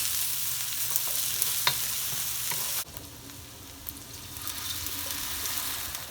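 Butter melting in a hot pan while foraged barnacles cook on the Oregon coast, giving a steady, close sizzle with a few sharp crackles. A sudden drop near the middle leaves a softer hiss that slowly builds again.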